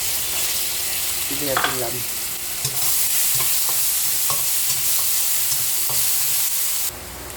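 Fried onion with ginger and garlic sizzles in a pan while a spatula stirs and scrapes through it, a steady loud frying hiss with rhythmic scraping strokes, and a brief spoken remark over the cooking.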